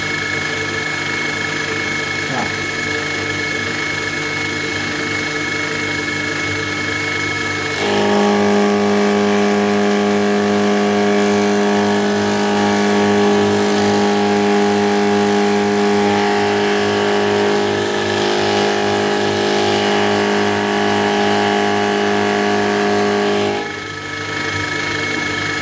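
A homemade cutter cuts aluminium. A faint machine hum gives way to a loud, steady, tonal droning whine that holds for about fifteen seconds before dropping back near the end, with no talking.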